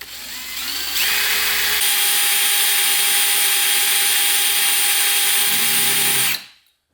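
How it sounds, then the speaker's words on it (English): A power drill runs with a tiny 60-thousandths bit boring a hole through a 4L80E transmission drum, a loud steady high whine holding for about five seconds after spin-up before cutting off. "I'm using a 60 thousandths drill bit, so it's really small"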